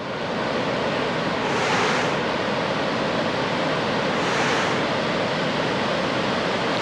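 A waterfall in Munnar pours during rainy weather, making a dense, unbroken roar of rushing water that swells slightly twice, with no one speaking.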